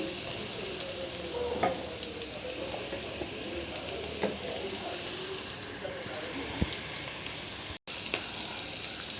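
Chicken with tamarind leaves fries in a pan with turmeric, salt, ginger-garlic and curry leaves, giving a soft continuous sizzle with occasional stirring clicks.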